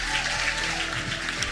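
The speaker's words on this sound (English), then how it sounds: "give yourselves, a huge live audience, a huge round of applause for being such a great audience tonight" Applause from a live podcast audience marking a 100th-episode celebration, a dense, steady wash of clapping that holds at an even level for a short stretch, heard from a distance and fairly faint.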